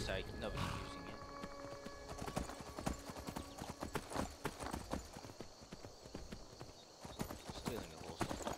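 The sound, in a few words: horse hooves clip-clopping in the video game Skyrim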